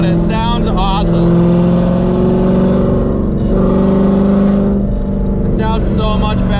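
A cammed 4.6-litre engine in a New Edge Ford Mustang drift car runs loud and close, its heavy lumpy idle rising and falling through steady revs with brief throttle blips near the start and end.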